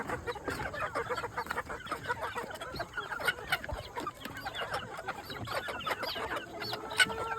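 Chicks in a hatchery cluck and peep busily and close by, many overlapping calls in a steady chatter that carries on throughout.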